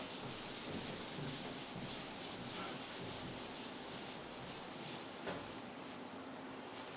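Steady, continuous rubbing of a duster across a board erasing writing during a physics class, a dry scraping texture that runs throughout without pause.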